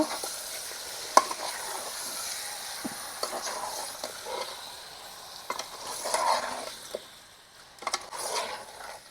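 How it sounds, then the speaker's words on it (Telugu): Chicken cooks in a pot over a medium flame, giving a soft, steady sizzle close by, broken by a few sharp clinks and stirring scrapes. "చికెన్ వేసుకున్నాం కదా మామ ఒక పదిహేను నిమిషాల దాకా ఉడికించుకుందాం"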